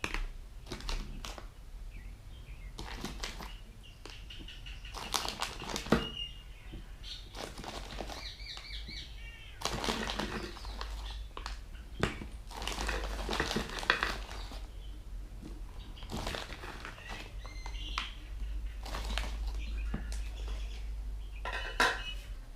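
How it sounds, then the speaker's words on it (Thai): One kilo of granulated sugar poured over plums for plum liquor, giving intermittent gritty rustling and clattering bursts against a container over about twenty seconds, with no talk. "น้ำตาลทรายหนึ่งกิโล ใส่ลงไปเลยครับ"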